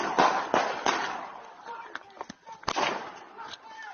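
Police fire a rapid, irregular burst of sharp gunshots, several loud cracks close together followed by quieter ones, amid shouting during a tense arrest outside a door.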